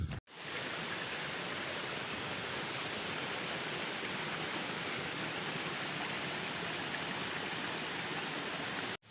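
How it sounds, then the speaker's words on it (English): Water runoff flows through undergrowth at a solo overnight wild camp, a steady, even broadband rush of trickling and splashing water that continues without pause, faint and distant in level. "There's water runoff."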